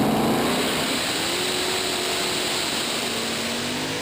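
A pulling tractor's engine roars at full revs during a Eurocup tractor pulling run in Hajdúböszörmény, Hungary, a loud, continuous, dense blast with a steady droning pitch throughout.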